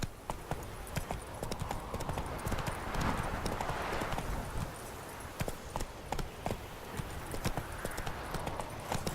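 Roach the horse galloping in The Witcher 3: Wild Hunt, a rapid rhythmic clip-clop of hooves on open ground, close and continuous, with faint movement noise around it.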